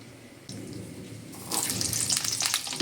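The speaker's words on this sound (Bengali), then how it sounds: "ভালো করে নেড়ে চেড়ে তেলে কিন্তু আমটা আমি ভেজে নেব" Peeled raw mango pieces frying in hot oil with panch phoron, a steady crackling sizzle that grows louder and busier partway through as the pieces are stirred, close and clear with no talking.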